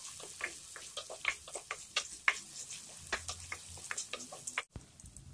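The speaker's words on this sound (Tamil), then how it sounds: "இப்போ இந்த வெங்காயம் நல்லா வதங்கிடுச்சு" Two medium onions, finely chopped, sauté in a pan for a spicy mushroom masala, giving soft, scattered ticking crackles at close range that stay fairly quiet and briefly cut out near the end.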